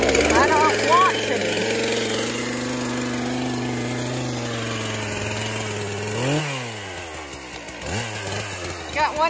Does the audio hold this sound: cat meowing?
no